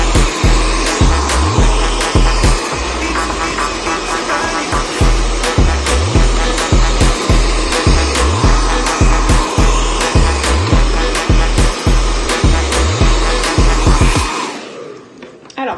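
A hair dryer blows with a steady whooshing roar, close and loud, following a brush through hair during blow-drying, with rhythmic dips and surges as it moves back and forth, then cuts off.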